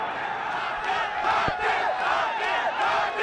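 A packed cricket stadium crowd at a Nepal Premier League match between Janakpur Bolts and Biratnagar roars and cheers continuously, a loud, sustained wash of voices with swelling shouts and a sharp thud midway.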